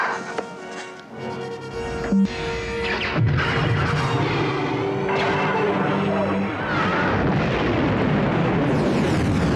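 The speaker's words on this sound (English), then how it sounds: "Darth Vader decided to test his new weapon by using it against her home planet" The Star Wars Death Star superweapon firing on the planet Alderaan, a loud sustained roaring blast with rumbling bursts and a rising, swelling explosion that fills the whole stretch.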